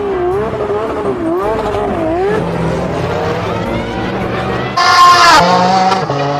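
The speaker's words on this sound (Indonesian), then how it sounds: "Wah, yang ini mobil balap teman-teman." A race car engine whines and shifts pitch as it drives, with a brief louder burst near the end, while a voice talks over it.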